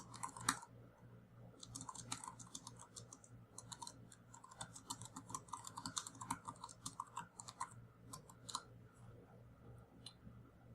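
Typing on an Inateck BK1003 Bluetooth keyboard while writing an email in the Gmail app: a steady run of soft, quick key clicks with an irregular rhythm, close to the microphone and alone, with no speech.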